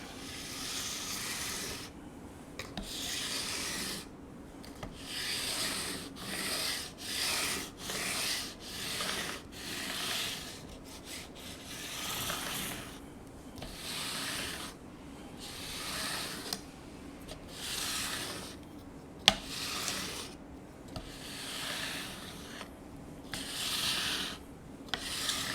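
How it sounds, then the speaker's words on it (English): Rhythmic scraping of a homemade sanding block on a Harley Benton SC-500 guitar's wood, back-and-forth strokes in bursts with brief pauses between them, close and fairly quiet. "So I have this here homemade sanding thing."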